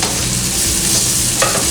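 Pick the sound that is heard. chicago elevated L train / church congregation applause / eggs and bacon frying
eggs and bacon frying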